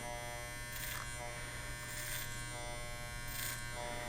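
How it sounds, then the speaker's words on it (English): Electric hair clippers cutting hair clipper-over-comb, a steady close buzzing hum broken by three short, brighter bursts as the blades pass through hair, no speech. "clipper over comb technique you got to get good at just by doing it over and over and over again"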